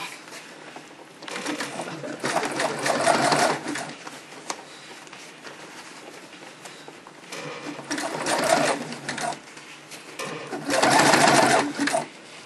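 A sewing machine stitches gussets in peach corsetry satin, running in three loud, rapid bursts with quieter pauses between them.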